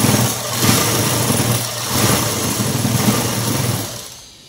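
Sewing machine stitching a seam on a long frock dress, a steady loud mechanical whir that runs continuously with slight surges and slows to a stop at the end.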